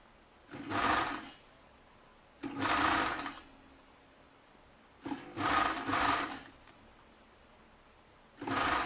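Sewing machine stitching the seam of a lined toque hat, heard as four separate bursts of steady mechanical running, each lasting about a second, with quiet pauses between them and no talking.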